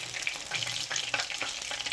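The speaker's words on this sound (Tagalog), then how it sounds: "Yan na yung ating prito" Steady crackling sizzle of food frying in hot olive oil, close and continuous with small popping spatters.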